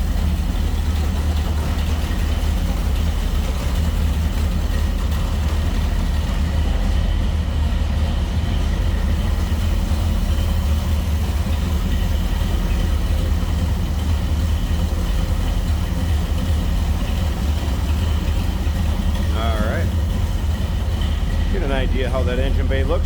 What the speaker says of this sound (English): Sounds like a big block, no doubt about that.